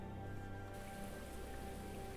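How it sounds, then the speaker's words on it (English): Rain falls steadily near water in the video game Brighter Shores, a soft continuous hiss of drops with no talking over it. "And of course it is raining near the water."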